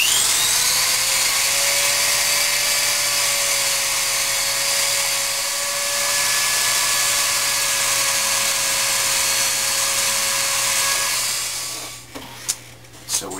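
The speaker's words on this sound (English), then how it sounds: "You use a Dremel cutting tool to cut these pieces off." Dremel rotary cutting tool slicing through metal rod pieces for an axle and prop shaft on a small cart, a loud, steady high-pitched whine with grinding friction close up, stopping near the end with a few small clicks and handling knocks.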